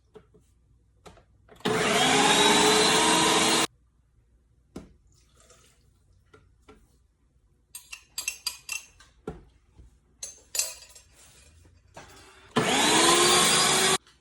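A countertop blender pureeing tomatoes runs in two loud, steady bursts of about two seconds each, one near the start and one at the end, with clinks and kitchen handling noises in between.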